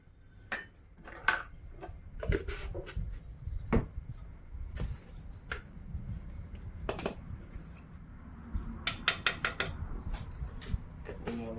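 Dried chilies and dried ginger pounded with water in a mortar for Thai-Lao rice noodle salad, giving irregular sharp knocks and scraping clatter at close range, spaced over a low background rumble with no talk.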